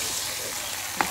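Constant hiss and sizzle of mutton karahi cooking in a pan over low heat, close and even throughout, with a faint clink near the end.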